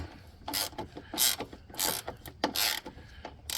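A ratchet snugs down the battery fitting on a Toyota 4Runner with several quick bursts of close, rasping clicks separated by short pauses.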